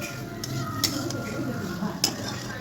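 A spoon stirs a salted fish curry with potato and pointed gourd in a pot, giving soft scraping and a gentle simmer, with two sharp metal clinks against the pan, close and unhurried.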